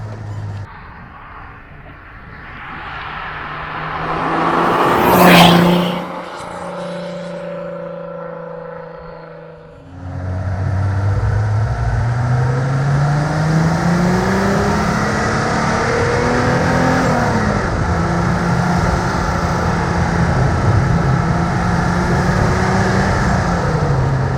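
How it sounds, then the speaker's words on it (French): A Venturi 221 Cup car engine revs up through the gears, a thin turbo whistle rising and falling above the steady road and engine drone. "Ce petit bruit de turbo là qu'on entend derrière, ça fait plaisir."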